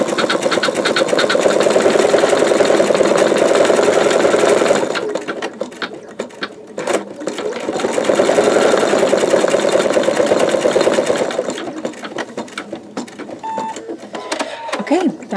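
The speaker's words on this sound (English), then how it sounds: "this is going to be 1 minute of stitching" An embroidery-style sewing machine stitches a bumblebee quilt block, a loud steady whirring hum with rapid needle chatter that runs for several seconds, drops away briefly, then resumes before settling into softer intermittent clicking.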